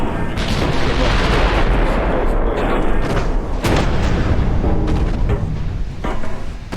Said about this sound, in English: when an 18-inch shell does hit, this hurts